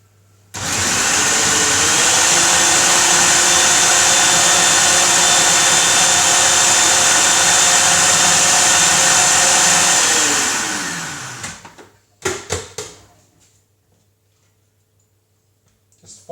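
A food processor whirs loudly and steadily for about ten seconds while chopping vegetables for homemade meatballs, then winds down and stops, followed by a few clattering knocks.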